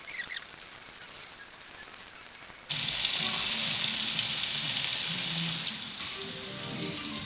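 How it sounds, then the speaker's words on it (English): Prawns are fried in batches in a pot for Kerala prawn rice. A quiet hiss bursts into loud, steady, close sizzling that holds continuously with faint stirring underneath. "The prawns go in, fried in batches,"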